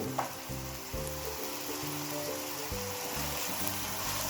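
Potatoes frying with onions in a pan, a steady close sizzle with soft rhythmic stirring scrapes running throughout, no voices.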